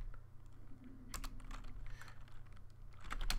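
Computer keyboard being typed on while entering git commands, soft quick key clicks in short bursts over a faint low hum, quiet and close.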